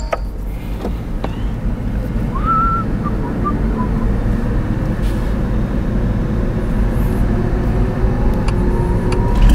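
Novitec Ferrari SF90 Spider hybrid with sport exhaust, heard from inside while driving, a constant low rumble of road and engine noise that stays steady and fairly loud, with a faint brief chirp partway through.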